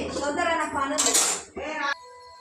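Fried bitter gourd is scraped from a pan onto a plate in a home kitchen, giving a close run of metal-on-metal clinks and clattering scrapes with a brief sharp burst. A voice talks over it.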